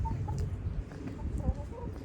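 Soft chicken clucks come in short bursts against a noisy outdoor background.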